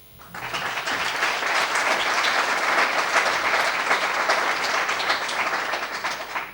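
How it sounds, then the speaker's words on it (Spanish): Audience applause at a Giner de los Ríos tribute event: clapping builds quickly into a dense, even wash from a sizable crowd, sustained for several seconds before easing off. "un fuerte aplauso a ellos"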